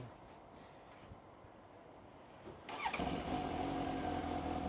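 A Suzuki GSX-S 750 motorcycle engine fires up partway through after quiet idle noise, then settles into a steady, close running rumble.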